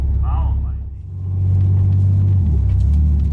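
A V6 Ford Mustang pulls away from a stop at an autocross event on cold tires. The engine gives a loud, deep rumble that swells as the car moves off, with voices talking over it.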